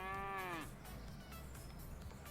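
A young calf in the Pure Farming video game gives one loud, drawn-out moo at the start, then only quiet farm ambience follows.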